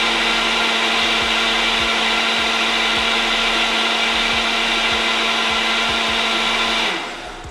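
A Ninja blender whirs steadily at full speed through a fruit smoothie with sweetener, a loud, constant high-pitched motor roar that winds down at the end.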